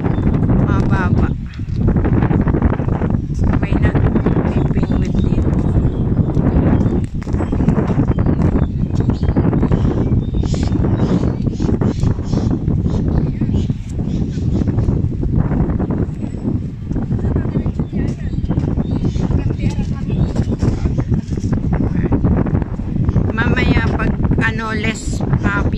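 Strong wind buffets the microphone in a constant loud roar, with brief gusty swells throughout and no clear voices, on Lek Yuen Bridge across the Shing Mun River in Hong Kong.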